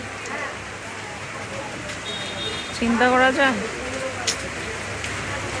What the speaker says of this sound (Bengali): বৃষ্টিটা আবার জোরে এলো